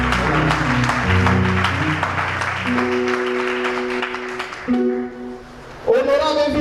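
An audience at a peace and social cohesion gathering bursts into steady applause, dense clapping that tapers off before a few voices rise near the end.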